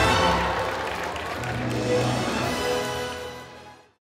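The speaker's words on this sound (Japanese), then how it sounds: "皆さん改めて大きな拍手をお送りください。" An audience at the opening ceremony of the Fullmetal Alchemist exhibition claps in a full, sustained round of applause that fills the room, then tapers and fades out.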